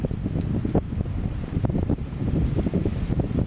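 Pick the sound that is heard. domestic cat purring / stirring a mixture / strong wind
strong wind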